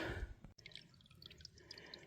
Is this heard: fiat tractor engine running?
no